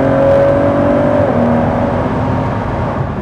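A Ford GT engine at Road America drones loudly and steadily at high revs, holding at the rev limiter before the pitch drops slightly, with road and wind noise underneath.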